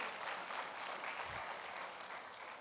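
A church congregation at a worship service claps together in a dense, even burst of applause that holds steady across the whole stretch with no voices on top.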